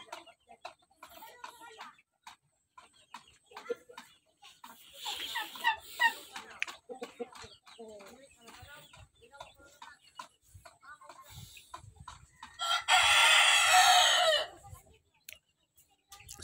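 Shamo rooster, a young backyard breeder bird of about four to five months, crows loudly in one strong burst near the end, with scattered clucks and soft farmyard sounds throughout and a brief louder flurry of calls midway.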